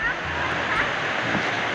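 Tagupak Falls, a waterfall feeding a river, roars as a steady broadband rush of falling water close by, with excited voices mixed in.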